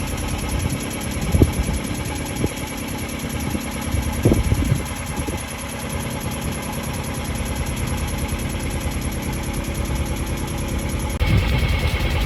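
Sailboat engine running with a blown, damaged exhaust pipe, a steady close mechanical drone with a constant high whine, irregular knocks and thumps, and no talk.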